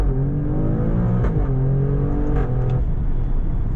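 Alfa Romeo Stelvio Quadrifoglio 510 hp SUV engine accelerating hard in race mode with manual shifts, a loud close-up drone that climbs in pitch, drops briefly at gear changes, then rises again.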